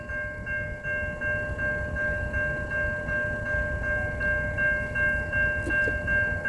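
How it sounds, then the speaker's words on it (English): A VIA Rail passenger train passes at a road crossing near Newtonville, Ontario, its steady rumble and wheel noise holding loud and constant, with high ringing tones running through it throughout. "we got a Via train coming down the line"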